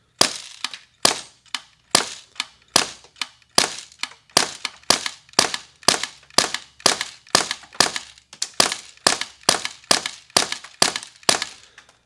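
A Polarstar Kythera airsoft gun fires repeatedly in a steady, evenly spaced string of sharp, close snapping shots, about twenty in a row, each cracking loudly then decaying quickly, with no talking.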